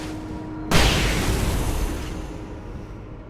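A grenade blast in a PS5 video game erupts suddenly after a faint hum, a loud booming explosion whose rumbling debris tail fades slowly over the next few seconds.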